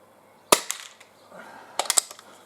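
Buckmark magnum pistol fired at a target at 10 yards, one sharp close crack followed by a quieter mechanical clatter, then a short cluster of snappy clicks.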